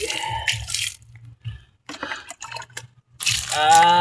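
Water is poured in short bursts onto a newly planted dwarf coconut, splashing and dripping onto soil between quiet pauses, close up.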